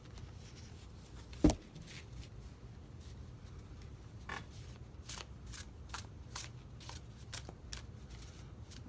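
Tarot cards riffle and snap in a soft, continuous shuffle, with a sharp tap early on and scattered flicks, close by and quiet.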